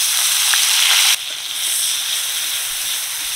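Chopped onion frying in hot oil gives a steady, close sizzle with a broad hiss. The sizzle drops in level halfway through and then carries on evenly, with no voices.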